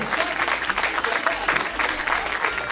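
An audience applauds a contestant named Carmen arriving at a Star Tour 2023 final, steady crowd clapping filling the room while a host's voice carries over it.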